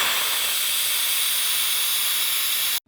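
An Instant Pot pressure cooker blasts steam through a quick release, a loud, steady hiss that runs unbroken for nearly three seconds and then cuts off abruptly.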